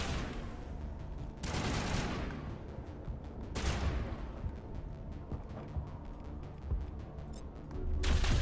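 Rapid gunfire bursts from Mass Effect Legendary Edition, with dense volleys and sharp louder blasts near 1.5, 3.7 and 8 seconds over a steady roar of combat, no voices.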